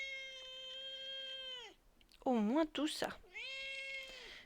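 A cat meows in long, drawn-out tones and grumbles indoors during a crochet session, with short rising yowls in between, close and fairly loud, while a person speaks briefly.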